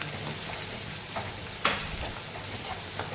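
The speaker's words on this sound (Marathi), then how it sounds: "चांगलं भाजून घेऊया आपण कांद्याला." Finely chopped onion fries in a pan for mutton keema, a steady close sizzle broken by stirring scrapes, one sharp clink of a spoon midway.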